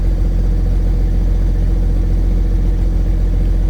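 A Case STX375 tractor engine idles right after coming back from a fault, a loud, steady low diesel rumble that holds unchanged and close throughout with no throttle.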